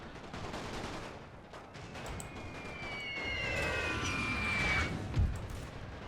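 Infantry gunfire crackles in The Great War Mod for Total War, as scattered distant rifle and machine-gun shots over a rumbling battlefield that builds steadily, ending with a heavy thump.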